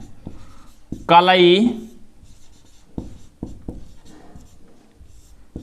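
Pen or chalk writing out a maths solution, heard as several short scratchy strokes, mostly after a brief spoken word, fairly close and moderately quiet.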